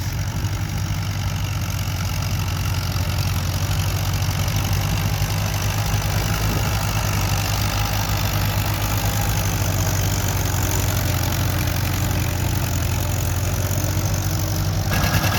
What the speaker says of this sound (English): Here comes quite a nice looking John Deere 80. And he's snaking 5 bottoms along behind him.